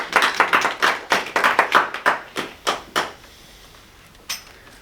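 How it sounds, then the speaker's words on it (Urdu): An audience at a church gathering claps in a short burst of distinct, close hand claps that thin out and stop, with one last lone clap after a pause. "تالیاں"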